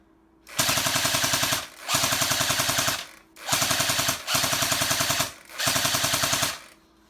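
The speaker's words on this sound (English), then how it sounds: "So we'll go ahead and do a prone shot for you, and we'll use the little shoulder support." An A&K M60 airsoft machine gun fired from the prone position, loud close bursts of rapid full-auto buzzing fire, five sustained strings about a second long separated by brief pauses.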